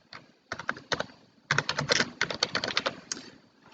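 Fast typing on a computer keyboard, close and crisp, in bursts of rapid key clicks separated by short pauses, with no voice over it.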